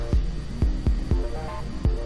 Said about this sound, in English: I'm using the scraper here to get the laminated pallet wood blank into the round